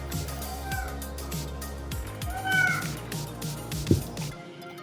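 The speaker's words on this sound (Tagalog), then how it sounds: "Ingay yung mga pusa." Several cats meow close by in short, repeated calls over a low background hum, with one brief sharp knock near the end.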